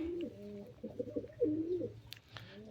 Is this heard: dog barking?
no